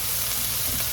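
Onions sizzle in a pan at breakfast, a brief, fairly quiet continuous frying crackle and hiss with no voices.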